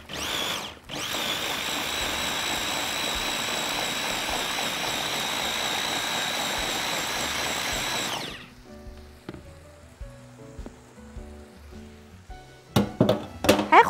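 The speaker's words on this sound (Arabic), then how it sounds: "كبة او الخلاط" An electric food chopper or blender grinds chili, ground dried coriander, cumin and raw tahini in a loud steady whir for about eight seconds. It then stops, followed by quieter clatter and knocks.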